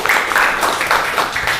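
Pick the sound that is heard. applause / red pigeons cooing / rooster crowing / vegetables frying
applause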